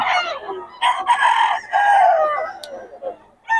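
A young rooster, a stag, crows at a busy market, a loud close cock-a-doodle-doo with several hoarse rising and falling calls and clucks, while people talk quietly nearby.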